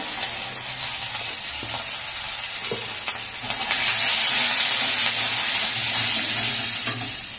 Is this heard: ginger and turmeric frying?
yes